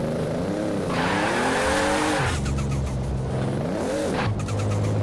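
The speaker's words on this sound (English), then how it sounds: "But this turbo sounds amazing." Turbocharged race car in Forza Horizon 4 revving up and down with a loud, whining engine note, tire squeal and sharp turbo flutter bursts between shifts, close and constant.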